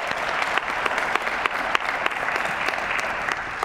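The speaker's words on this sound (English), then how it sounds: "So let's give a round of applause." Audience applause at a racialized minorities recognition ceremony, a steady wash of many hands clapping from start to finish, with a few louder sharp claps standing out near the front.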